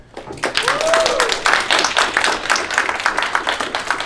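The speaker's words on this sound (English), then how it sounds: "give everybody a round of applause for yourself" A group of graduating seniors at a school convocation breaks into brisk applause that swells quickly and then carries on at a steady level, with a few voices and a short tonal sweep mixed in early.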